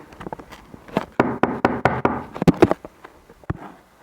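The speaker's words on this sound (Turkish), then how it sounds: "Kızım kapı çalıyor kapıyı aç." Knocking on a door in the Toca Boca video game, a quick series of sharp, evenly spaced knocks, loud and close, with no talk over it.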